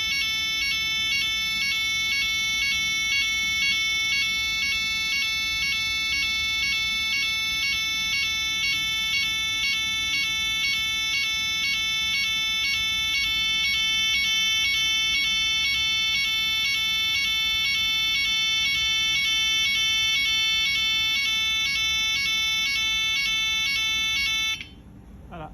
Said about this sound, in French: Les sirènes se sont arrêtées.